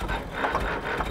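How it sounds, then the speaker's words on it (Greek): A cartoon car gives off a rattling, whirring mechanical noise, an uneven grinding churn heard up close for about a second. "το αυτοκίνητο βγάζει πολύ περίεργους ήχους"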